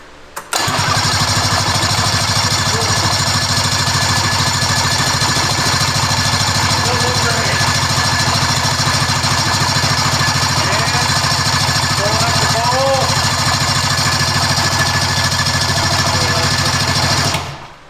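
An old Scorpion snowmobile engine, left sitting for 20 years with fresh gas but an unrebuilt carburetor, cranks and catches, then runs loud and steady close by for most of the stretch.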